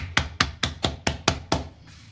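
Hands slap and pat jowar (sorghum) roti dough in a steady beat, seven sharp close claps evenly spaced about a quarter second apart, then quiet.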